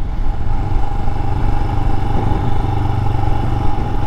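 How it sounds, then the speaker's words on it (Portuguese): Steady engine drone of a Royal Enfield Himalayan motorcycle ridden along the Estrada dos Romeiros, a rural road in São Paulo, Brazil, loud and close, with a constant hum and wind rush and no talk. "eu vou deixar vocês curtindo somente o som da moto, do vento e da paisagem."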